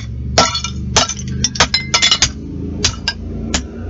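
A new hammer smashes a brittle battery charger against a tile floor, cracking the tile as well: a run of sharp, loud cracking and clinking impacts, about a dozen hits at irregular intervals, with broken pieces rattling in between and no voices.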